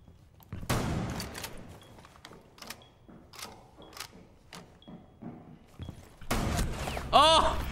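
Shotgun blasts and scattered gunfire in a Counter-Strike 2 match, several sharp shots spaced out, then a louder burst near the end with a ringing tone.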